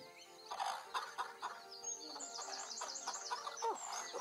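Chickens in the cluck coop of the farm video game Astro Farm, a faint cluster of soft clucks and chirpy tweets overlapping in an irregular rhythm, heard alone without talk.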